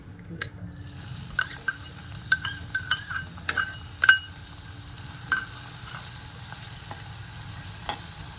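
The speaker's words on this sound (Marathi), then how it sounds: "गॅसची फ्लेम थोडी बारीक करायची आणि कांदा मंद आचेवर छान परतून घ्यायचा" Finely chopped onion sizzles in hot oil over a gas flame, a steady low frying hiss broken by scattered clinks and scrapes of a spoon stirring against the pan, close and moderately loud with no talk.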